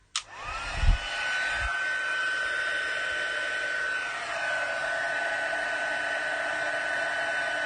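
A heat tool blows hot air to dry embossing paste for card making. It switches on with a click and settles into a loud, steady whirring hiss that holds for several seconds, its pitch shifting slightly partway through.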